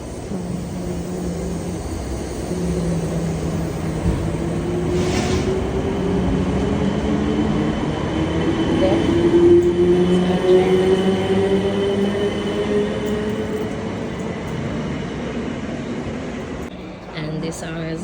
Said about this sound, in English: this is our train to Feltham